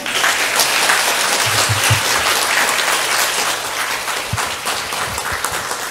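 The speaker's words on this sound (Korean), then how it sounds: "박수 소리가 제일 컸는데요" Loud, dense applause fills a lifelong-learning symposium hall after a presentation ends, a sustained wash of many clapping hands with a few low thumps beneath.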